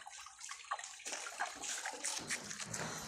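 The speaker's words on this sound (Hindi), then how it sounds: "एला पानी चल गया" Water gushing from a repaired hand pump on a construction site, an uneven splashing flow that starts sparse and then runs fuller and steadier, close by.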